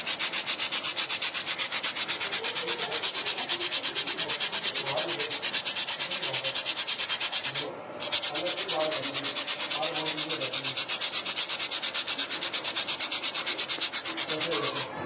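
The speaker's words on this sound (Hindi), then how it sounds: "ये 2 पापे ले लेंगे और इसको थोड़ा साइड में करेंगे, इसको ऐसे रगड़ेंगे" Two rusks rubbed together by hand to crush them for a large batch of milk rice kheer, producing a steady, close, dry rasping scrape that runs continuously with only a brief break midway, with no voices.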